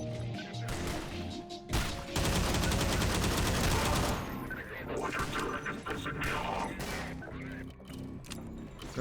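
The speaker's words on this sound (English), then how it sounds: "let me just throw a stasis grenade at them" A stasis grenade going off in the Entropy: Zero 2 video game: a loud, dense crackling burst of about two seconds, then busier mixed game effects that taper away, with voices present in the scene.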